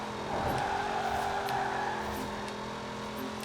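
Engine of a Hot Wheels car being drifted in Forza Horizon 4, heard as a steady, loud engine drone that holds a high, sustained pitch and shifts slightly, with no speech over it.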